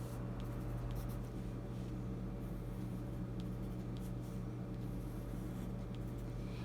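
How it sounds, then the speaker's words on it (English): A pencil scratches across paper while braids are drawn, a soft, continuous close scratching under a steady background hum, with no talking. "So I'm going to go ahead and draw those braids."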